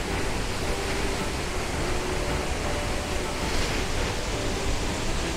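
Roar of the Månafossen waterfall heard from below, a loud, steady broadband rush of falling water that fills the whole clip without a break.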